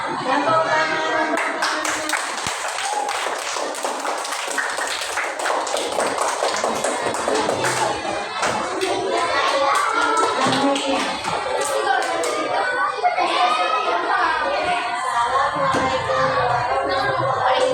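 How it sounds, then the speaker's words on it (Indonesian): A class of students claps hands together in a classroom, a dense run of sharp claps that carries on steadily with faint voices mixed in. "Tepuk tangan."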